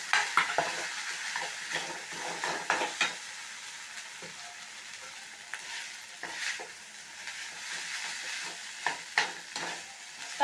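Rice being stirred into a curry leaf paste in a pan, a steady scraping and soft sizzling with scattered spoon clicks, close up and alone without talk.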